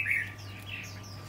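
A caged songbird gives a short, bright chirp followed by a few faint twittering notes over a low steady hum.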